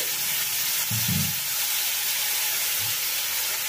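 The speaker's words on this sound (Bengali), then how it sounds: "এবারে এর মধ্যে সামান্য একটুখানি জল আমি অ্যাড করে দিচ্ছি" Water splashed into a pan of frying spice masala of ginger paste and cumin powder, made for a tilapia curry with bottle gourd, giving a short burst of sizzling over a steady hiss, then a fainter second burst.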